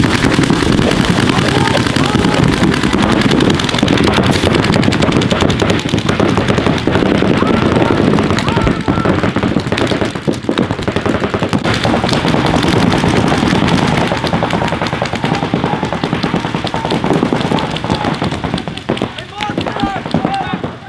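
Paintball markers fire in dense, rapid volleys through a competitive paintball match, continuous popping that stays loud and steady throughout, with players shouting over it.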